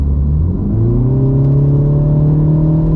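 A 2023 Mini Cooper S engine revs up, its low rumble climbing steadily in pitch and holding a loud, close drone throughout.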